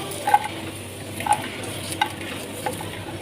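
Steady sizzling of garlic roasting in a hot pan with a few soft scraping stirs, close by and moderately quiet, no voices.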